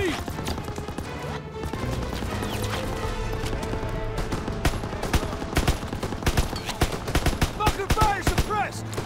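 Machine gun fire in Call of Duty WWII, rapid overlapping bursts and single cracks crowding a loud battlefield scene, building in intensity toward the end, with shouting soldiers and combat noise mixed in.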